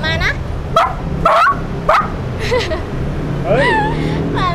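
A person imitates a dog's barking with several sharp yapping barks in a row, loud and close, followed by whiny yelps and whimpers that sound like a small dog.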